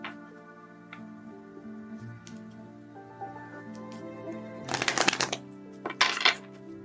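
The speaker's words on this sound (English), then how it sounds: "Let me shuffle these cards again here." Tarot cards shuffled by hand in two short, crisp riffling bursts late on, set against a steady low hum with a few faint ticks earlier.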